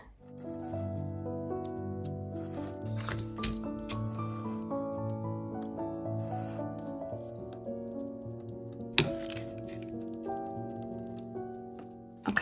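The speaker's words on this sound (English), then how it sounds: "And I will try to cut a slit." Scissors cut a slit in a junk-mail envelope page along a ruler, giving soft close snips and paper rustles at a quiet level, with a louder crinkle partway through; nobody speaks.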